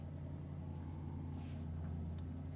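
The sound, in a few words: souped-up Seat Leon car driving past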